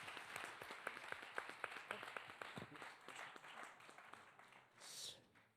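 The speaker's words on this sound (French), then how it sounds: "Merci beaucoup, on peut l'applaudir" Audience applause for a presenter at a youth entrepreneurship contest final, a thinning crowd with distinct individual claps that fade toward the end, then a brief louder burst of noise.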